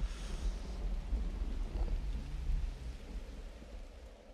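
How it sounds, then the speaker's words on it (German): Steady rain with a rumble of thunder in The Universim, a god-game world; continuous broadband downpour throughout, with a low thunder roll swelling near the middle, no voices. "Hier regnet es scheinbar"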